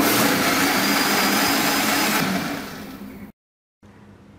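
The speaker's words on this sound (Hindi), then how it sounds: "इसमें अब हम 2 से 3 टेबलस्पून शुगर के ऐड करेंगे और अब हम इसको ब्लेंड कर लेंगे।" A blender whirs loudly and close up as it blends a mango milkshake with a few spoons of sugar. The roar holds steady, softens, then cuts off abruptly, leaving quiet room tone.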